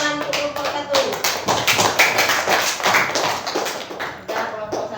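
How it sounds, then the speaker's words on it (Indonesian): A classroom of students applauds a presenting group with brisk, close, loosely rhythmic hand clapping that continues steadily for several seconds, with voices faintly mixed in. "mari kita tepuk tangan untuk kelompok 1"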